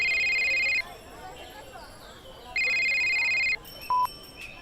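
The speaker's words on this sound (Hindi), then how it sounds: "कर रहा था कि उसका फोन बजा।" A mobile phone rings as a sound effect in a Hindi horror story, two long bright electronic ring bursts separated by a quiet gap, then a short beep, with no speech over them.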